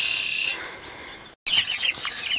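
Chickens in a backyard coop, with clucks and chirpy calls coming in short bursts at moderate loudness and a brief dropout in the middle.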